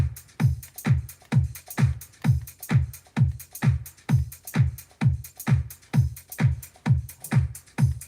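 A looped drum pattern plays steadily, with punchy low kicks hitting on a regular even pulse and chopped, halved repeats of the loop layered underneath, loud and up front with no talking.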